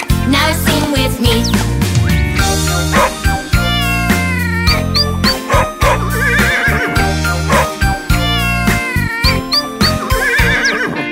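A children's animal song with a sung neigh imitating a horse, repeated in rhythm over bouncy instrumental music and a jingling accompaniment, loud and close.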